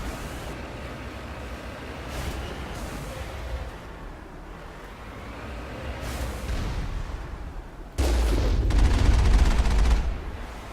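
Turret gunfire in the sci-fi video game Mass Effect, during a base approach on Noveria: a dull, rumbling burst that swells loudly near the end over a steady background of game ambience, with no talk.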